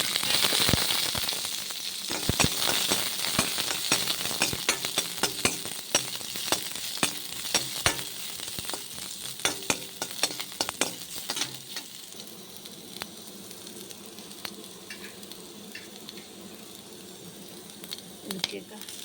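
Onion and garlic sizzling in a little oil for a spicy masala, a steady frying hiss with scattered crackles and pops, louder at first and settling lower, close up with no talk over it.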